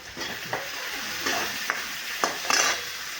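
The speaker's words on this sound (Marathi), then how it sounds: "आता टाकून घेऊया आपण टमॅटो" Tomatoes drop into onions frying in a pan for a spicy dry drumstick curry, with a steady sizzle and several bursts of stirring, close and fairly loud, no talk.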